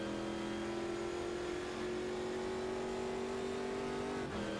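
Race car engines drone in a racing video game league round at Curitiba, a steady sustained whine holding pitch and rising slightly, then briefly dipping near the end, with no commentary.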